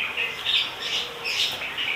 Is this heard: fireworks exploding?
no